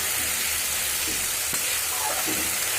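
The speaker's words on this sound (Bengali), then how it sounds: "এবার আমি মশলাটা কষতে থাকবো।" Spices for a paneer curry sauté in a hot pan over a raised gas flame, a dense, loud, continuous sizzle and hiss with occasional stirring scrapes, close up and with no voices.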